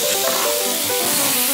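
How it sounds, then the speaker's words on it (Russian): Chicken thigh sizzles in a hot pan seasoned with cumin and black pepper, a dense steady hiss of frying, close and loud, with no talk. "Поджариваем."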